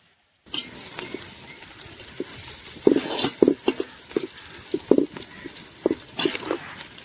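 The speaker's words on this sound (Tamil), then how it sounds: "வெங்காயம் நல்லா பொன்னிறமாக வர வரைக்கும் நல்லா வதக்கணும்" Onions sauté in a pan until golden brown for prawn biryani cooked in a garden, with irregular clinking stirring strokes over a faint sizzle and no voices.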